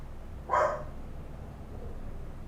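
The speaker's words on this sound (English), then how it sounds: "Can't think with a barking dog in my back of my head." A dog gives a single sharp bark in the background, brief and fairly near, followed by a faint muffled sound and quiet room tone.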